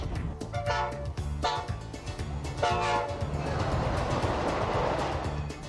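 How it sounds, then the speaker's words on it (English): A train hauled by steam locomotive number 90 on a historic steam railroad rumbles past close by with clattering wheels, its horn blaring in a few long tonal blasts over the rolling noise. "The locomotive pulling our train this afternoon is old number 90"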